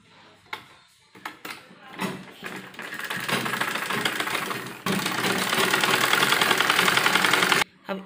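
A sewing machine stitches folded cloth for a baby's jhabla, starting with scattered clicks and short bursts, then settling into a loud, steady motor rattle of running stitches that cuts off abruptly near the end.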